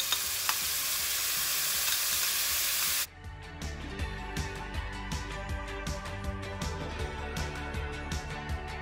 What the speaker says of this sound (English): we're just going to pour this into the frying pan and shake up the frying pan